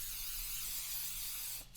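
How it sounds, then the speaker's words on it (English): Cooking spray hisses in one steady, continuous burst onto food in a pan, close and fairly loud, cutting off abruptly at the end. "So I usually spray one side."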